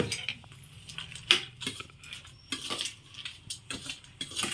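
A spoon scrapes and clinks against a pan while corn snack is mixed, giving a run of irregular metallic taps and stirring scrapes at close range.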